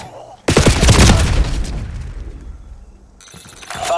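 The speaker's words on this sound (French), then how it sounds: "J'envoie une bombe collante." A sticky bomb detonates in Call of Duty Black Ops 7 on the Nuketown map, a sudden loud close blast with a long rumbling decay, followed by fresh gunfire or effects near the end.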